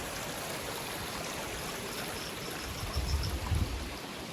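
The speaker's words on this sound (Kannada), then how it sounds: "ಇಲ್ಲೆಲ್ಲ ನೀರು ಹರಿತಿದೆ" A stream of water flows under a bridge in the hills of Chikmagalur, a steady close rushing and gurgling that carries on evenly, with a few deeper splashes near the end and no talking.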